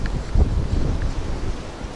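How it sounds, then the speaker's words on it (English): A big gust of wind buffets the built-in microphone of a Sony FDR X3000 action camera outdoors, producing loud low rumbling thumps and rustling distortion that swell and fade across the moment. "Wow, that's a big gust of wind. Can you hear the wind disruption?"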